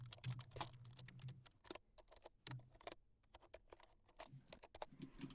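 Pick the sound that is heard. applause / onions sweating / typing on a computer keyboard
typing on a computer keyboard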